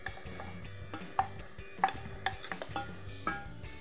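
Mushrooms dropped into a pan give a faint, quiet sizzle, broken by scattered clinks and soft knocks of a utensil stirring them.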